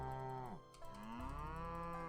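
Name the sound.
cows mooing in farm video game Another Farm Roguelike Rebirth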